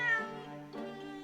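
Wagahai the cat meows in The Great Ace Attorney video game, a loud, close, harmonic cry followed by a second shorter mew, with no talk over it.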